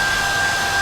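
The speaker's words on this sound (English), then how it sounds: "So now you can come back with your hairdryer" Hair dryer blowing warm air over fresh paint on a Tamiya 1/20 scale model car, a loud steady whine with a constant pitched hum and airy rush, close and uninterrupted.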